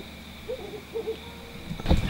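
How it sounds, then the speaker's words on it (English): Wood owl hooting at night in the bush near a lodge in Kruger Park, a few soft low hoots at moderate distance over a steady insect hum, with a brief louder rustle at the end. "We heard the wood owl."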